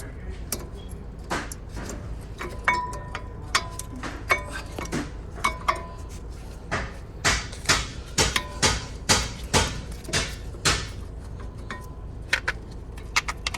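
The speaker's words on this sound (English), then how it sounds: "now it's time to install the brake pads" Metal clinks and clanks of brake pads and caliper hardware being fitted at the front wheel of a 2017 Jeep Wrangler 3.6L, a steady run of sharp close taps and jingles with no talk.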